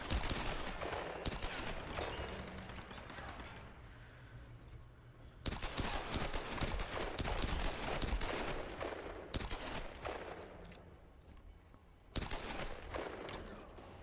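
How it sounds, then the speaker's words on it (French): Gunfire in the video game Tomb Raider crackles in dense bursts of rapid shots, a continuous fusillade of fairly loud reports with brief lulls between volleys. "Je me fais tirer dessus."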